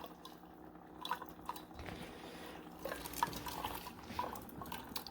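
Water drips and trickles from an Amazon Basics K-Cup drip coffee maker, faint irregular splashes and small clinks in a quiet kitchen.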